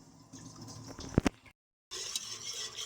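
A whisk stirs fenugreek seeds in water for a spiced drink, making soft swishing and sloshing with a couple of sharp clinks against the bowl. A brief silent gap breaks it before the faint stirring resumes.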